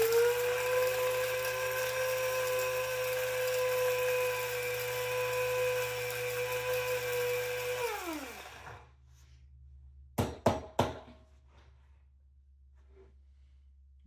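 Dried chili peppers whir in an electric grinder, a steady high motor whine that winds down and stops, followed by a few sharp knocks and taps in the quiet, no talk.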